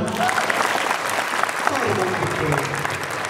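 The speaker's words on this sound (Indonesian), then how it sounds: "Tepuk tangan teman-teman" A room of vocational school students claps together in dense, steady applause that stays even and continuous from start to finish, with no talking over it.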